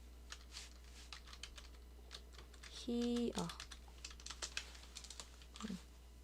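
Computer keyboard typing while text is entered during Photoshop work, soft scattered key clicks at an uneven pace, faint and close, with a short electronic tone in the middle.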